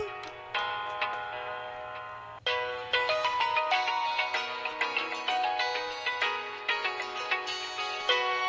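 A bright electronic phone ringtone plays alone, a repeating chiming melody of quick plucked notes, fairly close and clear.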